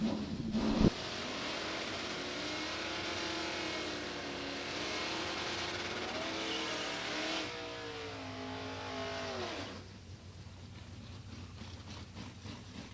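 Two stock-class Mustang 302 drag racing cars rev loudly at the strip, one a stick shift and one an automatic, engines rising and sustained for several seconds before tapering off and going quiet.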